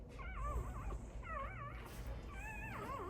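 Newborn American Bully puppies whimper and yip in high, wavering cries, several rising and falling calls in bursts close by over a low rumbling background.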